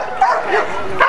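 A working dog at a bite work demonstration gives short sharp yips and barks close by, two quick bursts separated by a strained whine, with a voice faintly mixed in.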